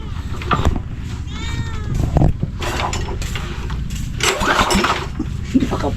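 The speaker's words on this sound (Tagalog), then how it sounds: "Yung makina kasi ililipat na doon sa kabilang bangka kasi yung makina luma patigil-tigil" An old, faltering boat engine is cranked and coughs into uneven running, loud and close, with scattered bursts and mechanical rattles under a noisy outdoor background.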